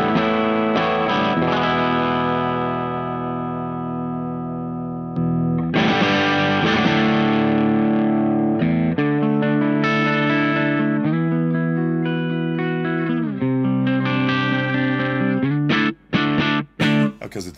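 Yamaha Revstar RSS02T electric guitar played through a Berry Pedals Breakup Deluxe overdrive pedal, with sustained, lightly distorted chords and notes ringing continuously, changing every second or two, ending in a few choppy staccato hits.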